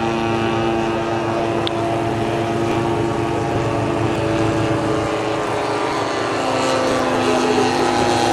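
Model Fokker D7 aircraft fly at a Rufforth air display, their buzzing propeller engines giving a continuous, overlapping drone that carries steadily from a moderate distance.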